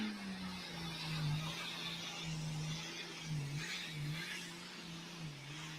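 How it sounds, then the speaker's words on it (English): Engine of a pulling tractor called All Cranked Up revving steadily at a tractor pull, a loud continuous drone with slight pitch dips and swells, no talk. "Mr. John Strandley on a tractor they call All Cranked Up."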